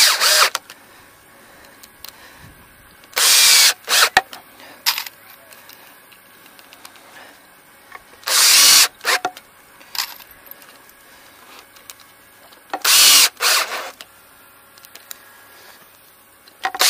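A power drill bores into a holder during plumbing and drain pipe installation, with several loud, short bursts of a few seconds each, separated by quieter handling noises.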